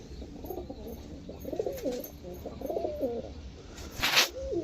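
Pigeons at a sale in Dankuni coo repeatedly in soft, throaty rolling calls, close by, over a low background rumble with a brief rustle near the end.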